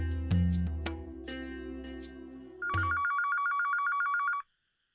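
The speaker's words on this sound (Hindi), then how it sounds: "इस वक्त किसका फोन हो सकता है?" A telephone rings indoors: a melodic ringtone tune plays over a music bed, then a bright repeating electronic trill sounds alone for about two seconds before stopping.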